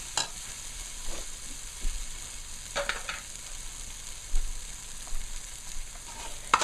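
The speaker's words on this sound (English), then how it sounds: "I put the masala in and let it fry up a little" Masala frying in hot oil for a jackfruit (katahar) and shrimp curry, a steady low sizzle broken by occasional scraping strokes of a spoon in the pan, close and moderately loud with no talk.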